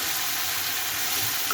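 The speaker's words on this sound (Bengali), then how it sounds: "এখন আলু দিব, আলু দিয়ে দিলাম। এখন আবার ভেজে নেব।" Chicken pieces and new potatoes frying in hot oil make a continuous, even sizzle up close, with no talking over it.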